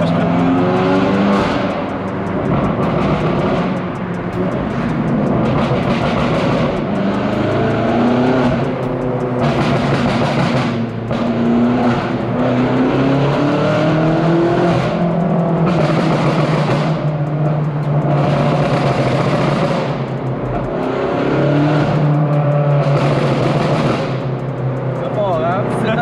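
BMW M8 with over 800 hp and a straight-pipe exhaust roars loudly and continuously, engine revving and surging while drifting, with rising and falling pitch sweeps, tire squeal and excited voices talking over it.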